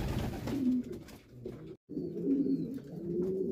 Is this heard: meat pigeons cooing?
yes